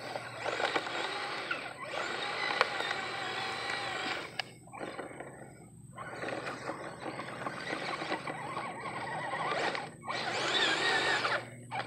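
A GP Toys S926 RC rally truck's electric motor whines in loud, surging bursts as it crawls over loose dirt, with brief pauses between pushes and a steady low hum underneath.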